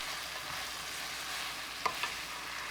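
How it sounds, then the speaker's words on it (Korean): Kimchi and pork stir-fry with chili powder in a pan, a soft, steady sizzle running throughout, broken by two quick spatula scrapes near the end, with no voices. "골고루 섞이면 고춧가루 한 스푼 넣고 볶아주세요"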